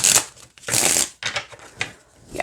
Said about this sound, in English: I don't have a problem with how it shuffles at all.